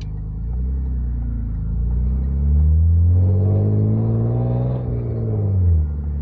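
BMW E36 with a Remus exhaust idling and revving, a deep, loud, rumbling engine note that rises and falls in pitch over a few seconds, heard alone.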